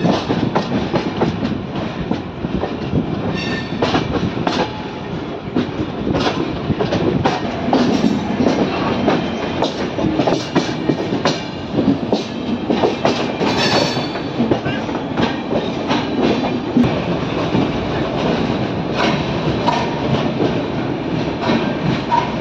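Konkan Kanya Superfast Express train running near Panvel, with a loud, continuous rumble of wheels and rhythmic clickety-clack over the rails, heard from inside the carriage.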